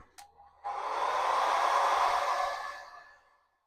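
A hair dryer blowing on a watercolor painting switches on with a click and whirs steadily and close for about two seconds before fading off.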